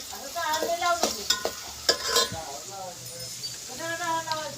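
Curry leaves crackle and sizzle in hot oil in a pot over a wood-fired chulha for egg biryani, with bursts of spitting and stirring while someone talks over the cooking.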